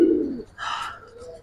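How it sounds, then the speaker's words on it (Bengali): A young Army pigeon chick gives a short, close coo, then a brief brighter call, at a pigeon market among adult pairs and other chicks, with faint background noise. "ভাই এটা একদম আর্মি কবুতরের বাচ্চা ভাই"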